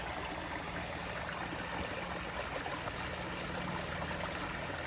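Water runs steadily into a backyard koi pond, a continuous rushing trickle at moderate level with no talk over it.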